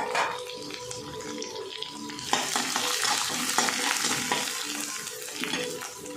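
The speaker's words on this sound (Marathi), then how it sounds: "खोबरं, लसूण आणि कोथिंबीर हे टाकून घेते मी। चांगलं परतून घ्यायचं।" A ground paste of coconut, garlic and coriander being sautéed in a pan for a Maharashtrian Bhogi mixed vegetable dish, with continuous sizzling and repeated scraping stirs growing busier and louder partway through, no talking.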